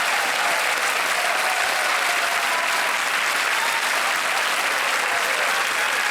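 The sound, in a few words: studio audience applause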